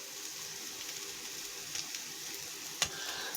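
Egg and onion adai frying on a pan, a steady close sizzle holding evenly throughout, with one sharp tick near the end.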